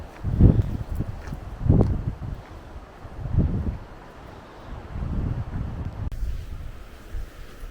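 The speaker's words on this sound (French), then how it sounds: "Quand le vent souffle, ça y revient." Wind gusts buffet the microphone in several low rumbling bursts on the coast at Arzon, Brittany, easing between them over a breezy background.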